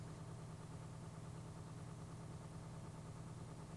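A truck engine idles at low revs while warming up after startup, giving a faint, even, low hum that holds steady from start to end.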